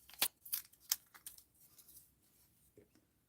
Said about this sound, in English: I'm just trimming around the edge here